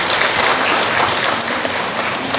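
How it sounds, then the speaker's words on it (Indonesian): A crowd at a government event on digitalising Dinoyo ceramics small businesses breaks into loud, continuous clapping, a dense unbroken wash of hands heard up close with no talk over it. "Tepuk tangan dulu"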